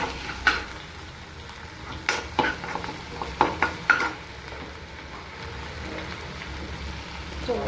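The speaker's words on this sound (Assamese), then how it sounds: "তেল গরম করে দিচ্ছি" Oil heating in a pan crackles with a low steady sizzle, broken by a cluster of sharp clinks and scrapes of a utensil against the pan in the first half, close up with no talk.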